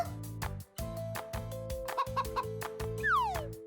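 Short clucking hen calls over a busy, bouncy music track, with a few quick chirps and a swooping whistle near the end.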